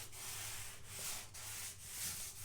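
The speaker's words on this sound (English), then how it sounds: "It'll give you an idea of the type of sanding you're going to do." Steady back-and-forth strokes of 150 grit sandpaper rasp against wood in a regular rhythm, close and moderately loud, with no talking.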